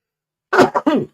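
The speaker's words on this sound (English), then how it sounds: "Bless me, Father, for I have sneezed." A person's sneeze indoors, three sharp bursts in quick succession after a silent pause, loud and close to the microphone.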